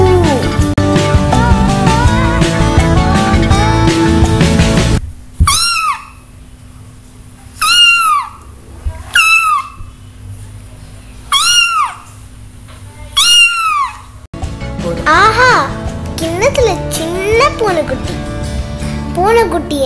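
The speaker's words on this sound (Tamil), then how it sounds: "பூனைக்குட்டி என்ன சொல்லும்? Meow meow meow meow" Kitten meows in a short series of five or six clear, close calls separated by brief pauses, then a denser cluster at the end over music, following a stretch of music at the start.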